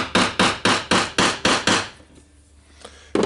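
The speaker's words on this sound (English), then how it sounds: "I will slightly hammer it." Hammer blows tapping a new armature into a Makita 18V cordless angle grinder (BGA452/DGA452) during repair: seven sharp, evenly spaced knocks, close and loud, followed by a quiet pause and one final tap.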